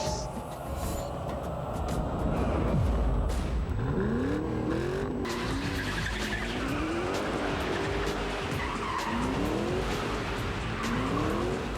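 A Ford Mustang drives hard in a TV commercial, with repeated rising and falling tire squeals over a continuous dense engine and road roar, loud and close with no talk.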